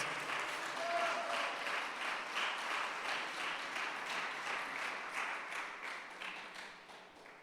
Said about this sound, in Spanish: Dale fuerte el aplauso al Rey de Reyes.